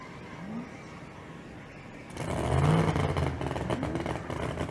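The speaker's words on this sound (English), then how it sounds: "Ron Link lets go of the button and goes right down the racetrack" A drag race car at the Street Car Super Nationals in Las Vegas launches down the racetrack, a low engine roar swelling suddenly from a quieter idle into a loud, sustained rising drone that stays strong to the end.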